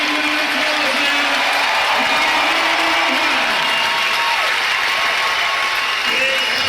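Applause from the crowd at a strongman deadlift event, a steady broad wash of clapping lasting throughout, with a voice talking over it.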